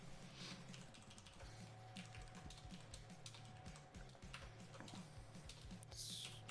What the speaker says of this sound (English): Stop it with the typing.